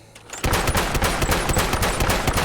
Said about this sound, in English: I really like that when it's unsuppressed, it does sound like a shotgun.